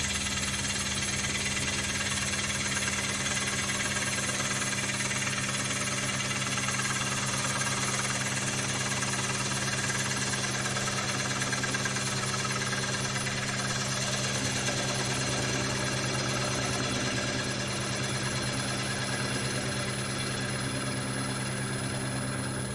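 A wood lathe spins a large platter blank, keeping up a loud, continuous motor hum and buzzing whine with a rough textured edge that stays steady throughout and has no talking over it.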